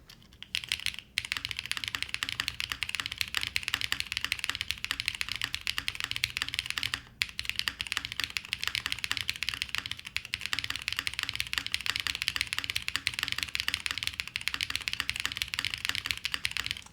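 Steady typing on a QK75N mechanical keyboard with Neo white switches, a carbon fiber plate and no foam, a continuous close run of crisp key clacks with two brief pauses, no talking.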